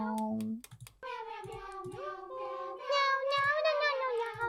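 Cat meows in a hidden-cats puzzle game, a run of close, tonal, wavering mews repeating one after another over quiet game audio.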